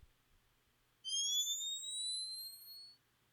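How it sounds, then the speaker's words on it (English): A bomb fuse sound effect: a clean, steady synthetic tone of several rising whistling lines that holds for about two seconds and then stops, heard alone against near silence. "bomb fuse."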